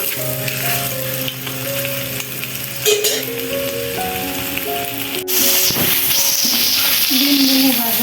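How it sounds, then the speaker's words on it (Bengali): Eggs sizzle and crackle steadily in hot oil in a pan while being fried for egg biryani. The frying noise is close and continuous, some clinks and faint tonal sounds sit underneath, and it swells louder in the last few seconds. "এখন এই তো ডিমগুলো ভেজে নিতেছি"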